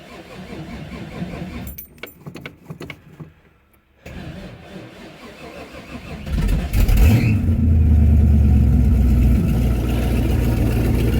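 A 1993 Ford Mustang engine, hot after running, turns over with keys jangling, cranks briefly, then catches and settles into a loud, steady idle close by.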